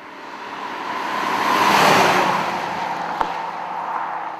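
BMW M5 Touring estate with a 5-litre V10 and seven-speed paddle-shift gearbox sweeps past on the road, a broad rushing roar swelling to a peak midway and then fading, with a brief sharp tick near the end.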